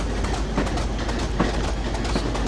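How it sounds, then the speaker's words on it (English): A Class 25 diesel locomotive runs in the Train Simulator 2016 game, giving a steady, loud rumble with rhythmic clickety-clack of wheels over rail joints throughout, and no talking. "instead of accelerating the train"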